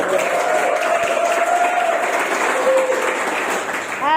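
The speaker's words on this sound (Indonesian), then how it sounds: "Sekali lagi tepuk tangan dulu sebelum Ibu komen." A crowd claps steadily for a few seconds, a dense even patter of applause.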